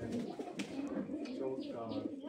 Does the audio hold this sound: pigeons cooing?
yes